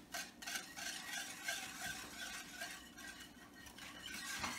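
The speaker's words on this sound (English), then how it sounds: "I'm just going to stir this all together until it makes like a barbecue saucy type." Teriyaki barbecue-style sauce with ground ginger being stirred in a pan for pork roast steaks, a quiet, continuous scraping and swirling with a faint simmer underneath.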